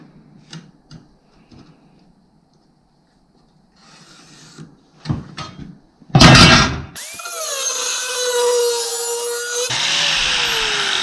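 A saw blade cuts a groove into rusty car body metal on a 1966 VW Bug, starting after scattered light knocks with a harsh burst, then a steady loud rasping grind that continues to the end.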